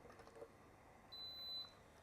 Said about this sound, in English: So you can hear that beep. So it is now paused.